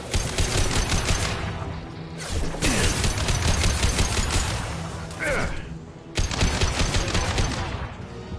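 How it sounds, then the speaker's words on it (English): Dense, sustained heavy weapons fire from a Battlestar Galactica video game, near and loud, with brief drops around the middle and a burst resuming toward the end. "Taking heavy fire!"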